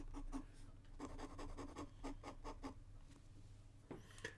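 Titanium ultra-flex fountain pen nib scratching across paper in short, quiet strokes, a soft rhythmic scribbling with brief pauses.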